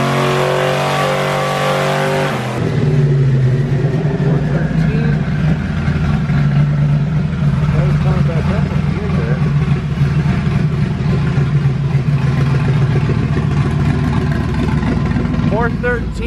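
A budget Hemi V8 in a Mopar build revs hard under load, starting as a steady tone and then swelling into a loud, sustained roar that climbs and holds for more than ten seconds.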